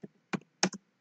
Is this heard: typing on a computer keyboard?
yes